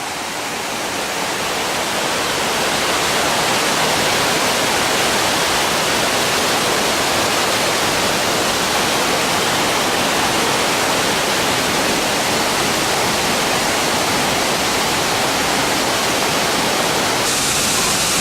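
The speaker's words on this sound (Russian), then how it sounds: "Ну а вот и сам водопад." Klong Chao waterfall on Koh Kood island pours in a loud, steady broadband roar of falling water that holds unbroken and close for the whole stretch, with no voices over it.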